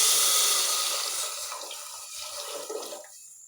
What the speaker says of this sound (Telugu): ఇప్పుడు మనం ఇందులోకి వాటర్ యాడ్ చేసుకున్నాం.